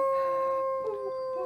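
A voice imitates a mournful howl drifting from nearby woods, one long sustained wavering tone held steadily for the whole moment with a slight dip near the end.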